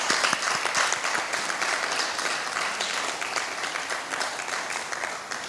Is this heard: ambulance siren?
no